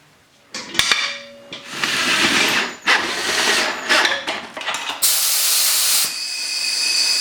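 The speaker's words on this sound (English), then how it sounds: "Pressurize the pot up to 50 psi." Loud steady air hissing as a resin pressure pot is pumped up to 50 psi, with clanks and knocks at the start and a sharper, brighter hiss taking over near the end, close by and with no talk.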